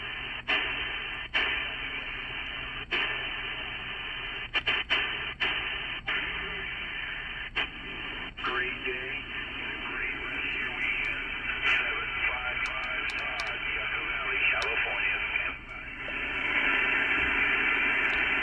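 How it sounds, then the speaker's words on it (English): A micro pocket HF/SSB receiver puts out steady band hiss and static with faint garbled signal. Sharp clicks and crackles cut through at irregular moments, and the noise grows slightly louder toward the end. "It sounds like an HF radio."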